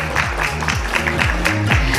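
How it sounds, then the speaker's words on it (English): An audience at a summit event applauds while background music with a pulsing bass plays, a short, steady spell of clapping at moderate loudness. "You're not applauding our wonderful people who are coming on again."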